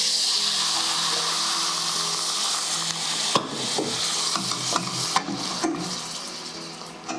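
Tomatoes and a splash of wine sizzle in a hot pan, a steady close frying hiss with clinks and stirring knocks from a utensil against the pan.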